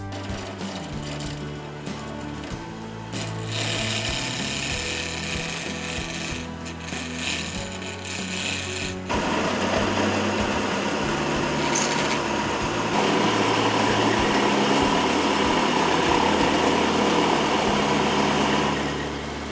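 A wood lathe turns acrylic pen blanks, with a steady motor hum under a continuous scraping, rasping cut that grows louder and brighter partway through, close up and with no talking.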